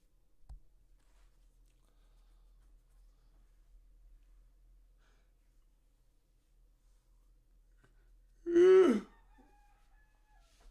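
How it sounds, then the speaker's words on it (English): A rooster crows once, a single loud, clear cock-a-doodle-doo lasting about a second after a long near-silent stretch, close by with no other sounds. "Rooster's crowing."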